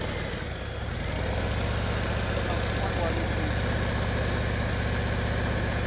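Motorcycle engine idling and pulling at very low speed during a slow-speed riding lesson, a loud, steady, close low rumble that holds evenly throughout.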